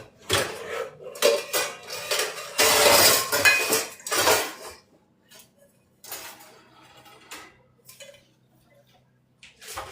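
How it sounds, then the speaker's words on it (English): Metal pans and cookware clanking and scraping in a kitchen while someone rummages for a small pan, loud bursts of clatter easing into scattered lighter knocks. "Let's see if I can find a little pan."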